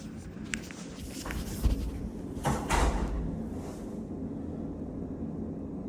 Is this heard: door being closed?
yes